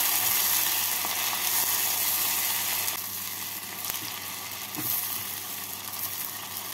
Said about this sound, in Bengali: টমেটোটাকে পেঁয়াজের সাথে ভেজে নিলাম।